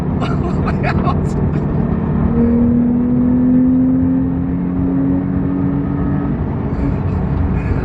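A Porsche 911 Carrera T on a track gives a steady, loud engine drone with a rising whine as it gathers speed, continuous throughout, with a voice speaking over it.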